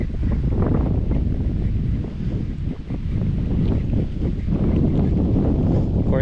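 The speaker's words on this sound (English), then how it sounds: "Of course, I pick a windy day to do this." Strong wind buffets the microphone in heavy low gusts, roaring continuously with brief dips in force.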